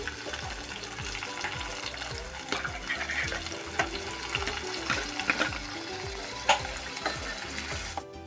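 Mustard seeds, green chillies and onions fry in hot oil, giving a steady close sizzle with light crackles and occasional stirring clinks, with no one talking.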